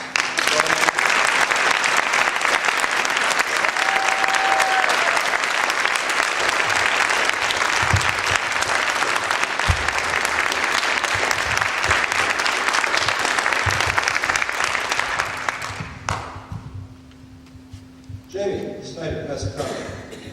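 Audience applause for students standing up at a gathering: a dense, sustained clapping from a crowd that holds steady for about fifteen seconds, then thins and dies away into murmurs and brief talk.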